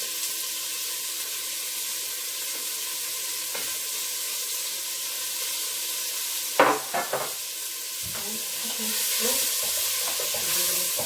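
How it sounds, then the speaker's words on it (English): Beef browning in a hot pot for Irish stew gives a steady low sizzle throughout, with a few brief clatters and scrapes midway and a louder burst of frying toward the end. "Brown it up. You can see that it's starting to brown already."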